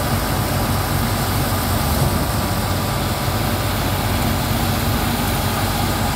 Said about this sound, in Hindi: ट्रैक्टर हैगा वा